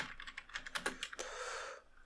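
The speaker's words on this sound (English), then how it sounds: "let me type something like this" Rapid typing on a computer keyboard, a quick run of close, crisp key clicks followed by a short burst and a brief trailing hiss, with no voices.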